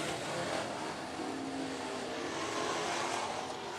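Race cars circle the oval at 105 Speedway, their engines blending into a continuous, moderately distant roar that holds steady without a distinct pass-by.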